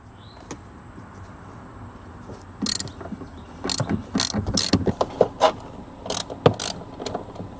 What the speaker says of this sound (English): Next, we're going to loosen all of the bolts.